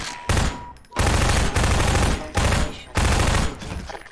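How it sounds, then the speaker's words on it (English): SMG fire in Half-Life 2 rattles out in four loud, rapid bursts, each about half a second long, separated by short pauses in a narrow corridor. "That SMG sounds so loud compared to everything in the game"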